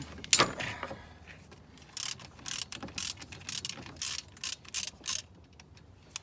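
A ratchet works loose bolts on the alternator of a 2000 Subaru Outback, giving bursts of quick metallic clicking at close range separated by short quiet gaps.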